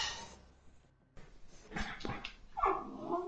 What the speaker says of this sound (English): Oh, the dogs are starting to go nuts.